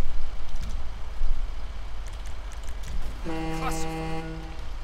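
A fire truck horn honks in the video game GTA 5, a long steady tonal blare near the end following low engine rumble, with faint background noise.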